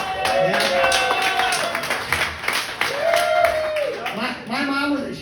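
An audience at a comedy club claps for a comedian's parents, a short burst of scattered applause rolling along under the comic's loud speaking voice and laughter.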